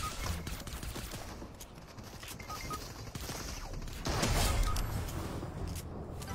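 Rapid gunfire from a shooter video game, with a dense, continuous crackle of shots throughout that grows louder and heavier in the latter part, with no talk over it.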